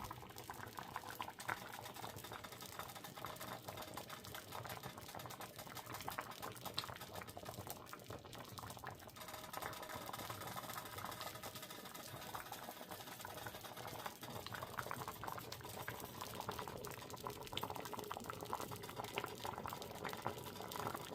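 A covered pot of black beans boils steadily on the stove, giving a faint, continuous bubbling and rattling simmer with no voices present.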